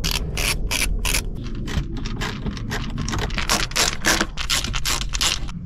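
Screws on the glovebox of a 2008 Smart Fortwo 451 Passion being driven home with a ratcheting tool, a steady run of close, loud clicking and grinding bursts under a faint background hum, with no talking.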